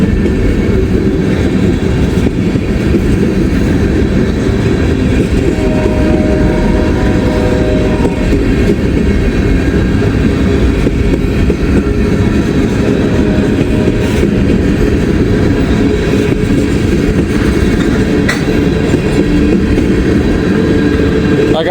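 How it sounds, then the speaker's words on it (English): A Norfolk Southern train rolls past on the tracks in an unusual direction, making a loud, steady rumble that stays close and unbroken for over twenty seconds, with no talking. "it is very rare to catch a Norfolk Southern train going this direction on these tracks"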